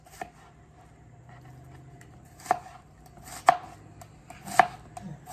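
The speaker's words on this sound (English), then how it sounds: "We're gonna cut it into slices." A knife slices through an Italian meat roll on a cutting board, giving three sharp, separate chops near the end after a quiet stretch, close and fairly loud with no one talking.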